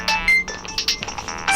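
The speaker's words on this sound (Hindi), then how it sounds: "यादव सर का फोन है।" A phone ringtone for an incoming call plays in a police office during a Delhi protest investigation, a bright melodic tune of repeated chirping notes that is fairly loud and close, with no talk over it.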